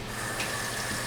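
Cool tap water runs steadily over just-cooked pasta, a continuous close, even gush of flowing water with no pauses or voices.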